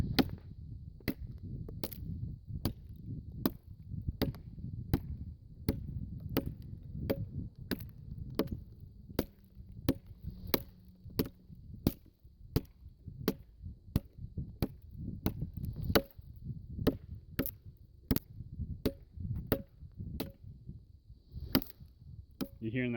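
A Condor Golok machete chopping wood, with repeated sharp, hollow-sounding strikes at a steady rhythm and brief low voices and movement between the blows.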